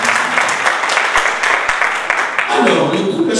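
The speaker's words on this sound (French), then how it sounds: "Applaudissez pour Mademoiselle Sunga." Applause from guests at a civil wedding ceremony in a town hall, a burst of clapping under a nearby voice, swelling again toward the end.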